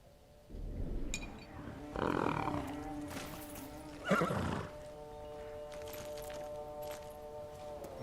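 A horse in the video game Ghost of Tsushima whinnies loudly several times over about eight seconds, the calls rising and falling, with hoof clip-clops and a sustained musical drone running underneath.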